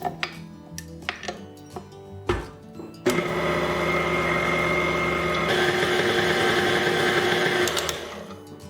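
A stand mixer starts with a few clinks, then runs as a steady motorized whir while mixing cardamom bun dough with softened butter and room-temperature egg, loud and close for several seconds before slowing.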